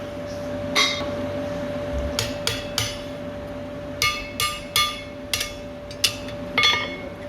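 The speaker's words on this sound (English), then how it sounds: "Punch the holes for the rivet." Hammer striking a punch to make rivet holes in hand-forged scroll tongs, a series of sharp metallic clanks in irregular pairs and groups over a steady background hum, close and ringing.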